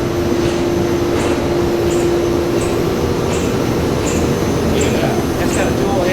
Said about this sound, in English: It's got a dual head, and right now what it's doing is drilling the parts